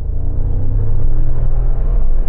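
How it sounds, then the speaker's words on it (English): A V8 engine's low, steady rumble hums beneath the cabin noise, throaty and continuous, sounding somewhat distant and muffled. "Now I've got the distant rumble of that V8 engine."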